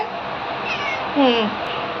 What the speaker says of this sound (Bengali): এই প্রথম আজকে দেখতেছি সে ফিওনা এরকম মেও করতেছে